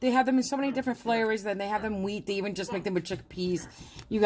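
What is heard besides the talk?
None of the usual background noises is heard.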